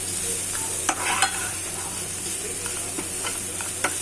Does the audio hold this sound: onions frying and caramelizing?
yes